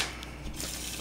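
A deck of Uno cards being shuffled: a continuous papery riffling and flutter, close and moderately soft, with no talking over it.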